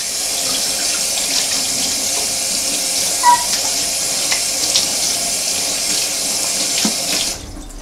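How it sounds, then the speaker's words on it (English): Tap water runs steadily into a sink while hands are washed, a continuous close splashing rush with small bumps of movement, cut off abruptly near the end. "Wash my hands off."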